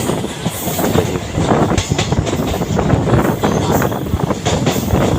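Silchar Guwahati Express train running on rails along the Silchar–Guwahati line, a loud continuous rumble with rhythmic wheel clatter and some wind buffeting, heard from on board without talk.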